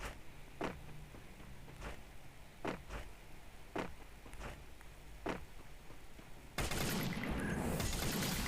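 Gunfire in a shooting video game, a run of about seven evenly spaced single shots at moderate level, then a sudden loud burst of dense noise near the end, with no talking.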